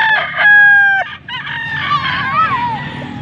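A rooster crows loudly and close by, giving a long, strained call that breaks off and then trails into a rough second phrase, with faint background clucking and no talking.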